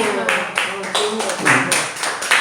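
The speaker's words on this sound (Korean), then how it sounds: "박수 하세요." A church congregation at a Wednesday prayer meeting breaks into several rounds of applause, uneven bursts of clapping mixed with voices talking over it.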